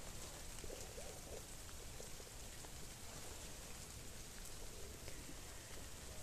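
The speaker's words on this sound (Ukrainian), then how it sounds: "дощ сильніше і сильніше, треба йти ховатися від дощику" Steady rain falls over a summer flower garden of phlox, hydrangeas and rudbeckia, a dense, even hiss of drops close by that keeps up without a break and with no voices.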